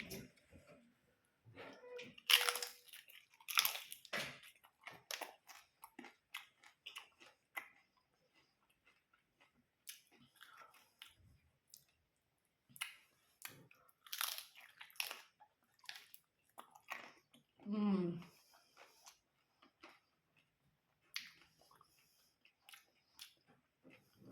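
Close, quiet chewing and biting of spicy eggplant, soft crunchy mouth sounds coming in irregular bursts with pauses between, a few faint voice sounds here and there.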